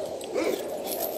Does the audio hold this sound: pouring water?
no